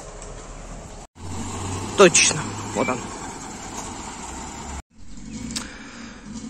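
A truck bringing a load of crushed stone, its engine rumbling and idling nearby with a few brief clanks while someone talks over it.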